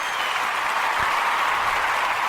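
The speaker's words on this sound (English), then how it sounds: "Round of applause is for you." Dense, even applause on a sports podcast intro, a steady wash of many hands clapping with no voices over it, moderately loud throughout.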